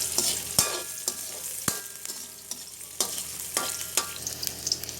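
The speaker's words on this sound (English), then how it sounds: "to this we will add onion, some garlic, and just stir this for a while" Onion and garlic fry in a pan for Malaysian mamak-style mee goreng, a quiet sizzle punctuated by about a dozen sharp, irregular spatula strikes and scrapes, close and without talking.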